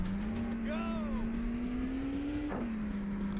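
Race car engine drones steadily in the Initial D game on Sega Saturn, with a brief rising tire squeal early on and a sharp skid or impact later, all under ongoing talk.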